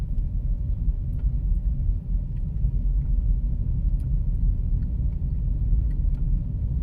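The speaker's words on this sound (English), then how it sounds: "I just drive around at random in some of these old streets and stuff" A car drives slowly through old Texas streets with a steady low engine and road rumble from inside the cabin, continuous and even throughout, with faint small clicks and no talk.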